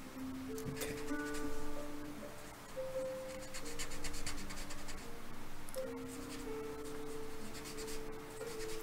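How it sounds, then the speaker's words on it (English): Very soft charcoal scratches and rubs across paper in a close, continuous drawing pass, with rhythmic strokes and faint tonal hum in the background. "This is very soft charcoal."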